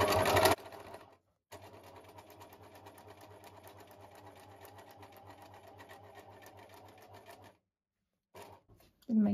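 A domestic sewing machine runs steadily for about six seconds while stitching a small Christmas stocking, a soft even whir between brief start-stop pauses.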